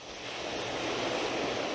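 Ocean waves washing in a relaxation soundtrack, a broad steady rushing surf that swells slightly louder toward the end, with no voice over it.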